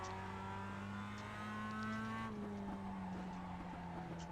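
A Mazda Cup race car in iRacing at Mid-Ohio on a hot track, its steady engine drone carrying a faint scrub of front tires sliding through a corner, the engine note shifting partway through.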